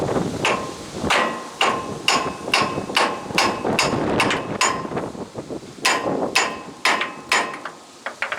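Repeated sharp hammer blows strike a stuck bearing to drive it off the shaft of a New Holland BR780 round baler, outdoors on a windy day, about a dozen irregular impacts, close and loud, with wind noise underneath.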